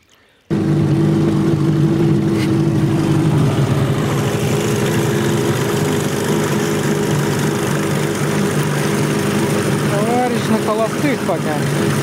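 A Tohatsu 9.8 outboard motor on a Kombat 330 boat on the Kama River starts abruptly and runs loud and steady, a close droning buzz that holds constant to the end.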